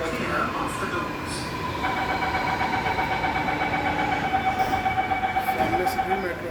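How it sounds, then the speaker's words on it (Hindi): A Lucknow Metro train pulls away from a station platform at night with a steady rumbling roar and whining tones that rise as it gathers speed, loud and close, with no talking. "सामने से भी मेट्रो आ चुकी है, देख सकते हैं जा रही है।"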